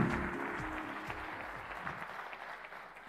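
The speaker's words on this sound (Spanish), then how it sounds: "Hoy yo quiero pedirle un aplauso a los emprendedores" An audience at a Digital Bank LATAM conference in Montevideo claps together in a full burst of applause that fades over a few seconds.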